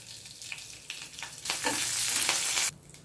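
Dried red chilies, garlic, curry leaves and asafoetida powder sizzle in hot oil for a tempering, the frying swelling into a loud, steady crackle midway before dropping away abruptly.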